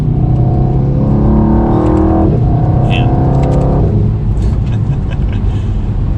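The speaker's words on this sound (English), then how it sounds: "Oh man, exhaust pops already." A 2020 Mercedes-Benz E63 S AMG engine revs hard under acceleration, with a loud continuous exhaust drone and a few sharp crackling pops; a man briefly exclaims over it.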